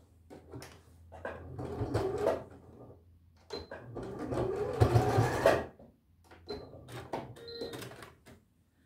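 A sewing machine tacks a stitch on a sweatpants pocket, running in three short whirring bursts separated by brief pauses, close and clear with no talking.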